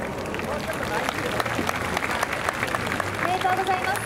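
Audience applause at the Sailing KOBE award announcement: dense, steady clapping from a large crowd for several seconds, with a faint voice over it near the end.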